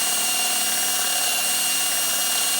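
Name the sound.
drill boring wood for a rice bowl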